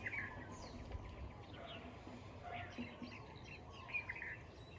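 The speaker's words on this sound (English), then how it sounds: "Noticing all the sounds around you, the birds chirping" Birds chirp outdoors in short, faint, scattered tweets over a quiet background.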